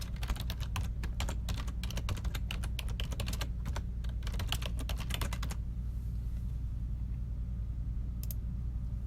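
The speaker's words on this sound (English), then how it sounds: "I'm going to type in my credentials" Fast bursts of computer keyboard typing as login credentials are entered, dense close key clicks for about five seconds, then a pause with one or two isolated taps.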